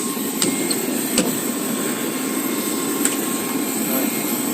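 Steady cabin drone of a small airplane's engine on a flight to Coron, Palawan, constant and close, with a few brief sharp clicks or knocks over the hum.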